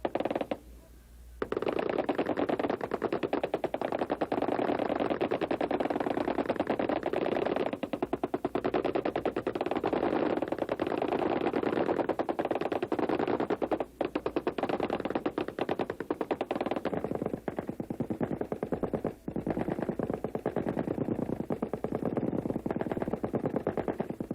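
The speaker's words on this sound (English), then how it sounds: "One of the treats we all have is waiting for the firing of the M60 machine gun." An M60 machine gun fires at an Army basic training range at Fort Leonard Wood in 1986, its dense, loud gunfire rattling almost continuously with only brief breaks, close and sustained throughout.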